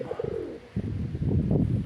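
Pigeons coo repeatedly in low, throaty murmurs, several birds close by, overlapping in a soft continuous burble.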